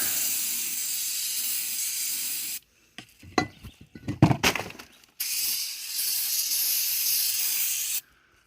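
Two long, steady hissing bursts of aerosol carburetor and choke cleaner spray, close and loud, aimed at a wasp, separated by a stretch of scattered clattering and rustling handling noises.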